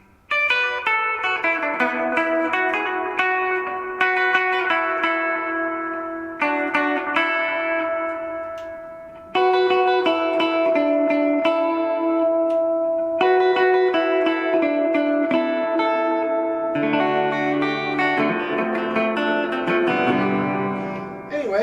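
An electric guitar plays on its neck pickup through a Fender Tone Master Twin Reverb amp, clean, sustained chords and melodic notes with lush reverb, played alone and close for about twenty seconds.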